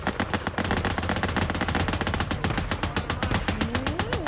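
Rapid automatic gunfire in the zombie video game Days Gone, a fast, steady stream of loud shots continuing without pause throughout, with no talking over it.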